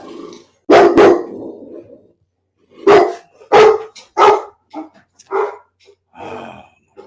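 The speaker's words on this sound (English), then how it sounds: "I don't know what the heck he's barking about." A dog barks indoors in a series of loud, close, sharp woofs, two spaced apart then several in quicker succession, with short silences between and a faint growly tail at the end.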